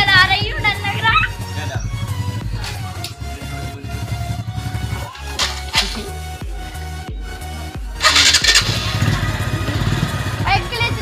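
A motorcycle engine runs steadily after being shifted into gear and ridden, with a strong rumbling drone and a voice talking over it.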